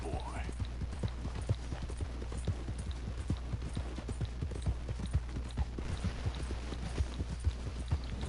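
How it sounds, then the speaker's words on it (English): Rhythmic hoofbeat clip-clops of a horse trotting in a PS4 video game, steady and fairly quiet over a low constant hum. "Giddy up, horsey."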